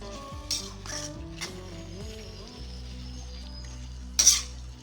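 Prawn thokku is stirred in a pan, with a few sharp spatula scrapes and clinks over a faint simmering hiss, set against steady background music and no speech.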